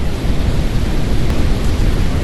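A Roblox storm roars as dense, loud, continuous broadband noise like heavy wind and rain, with no voices over it.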